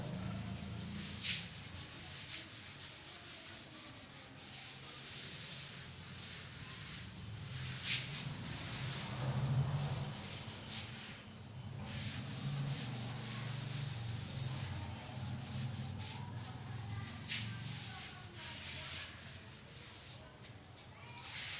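Steady broadband rubbing of a board being wiped clean in a chemistry classroom, continuous and fairly close for about twenty seconds, with faint voices in the background.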